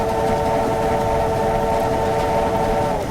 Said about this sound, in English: Let's blow the whistle through here then.